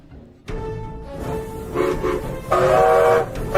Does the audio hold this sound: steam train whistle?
yes